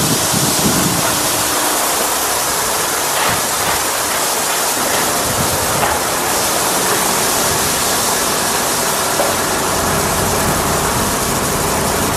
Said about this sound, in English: I created content of ripping bags open and watching things pour out.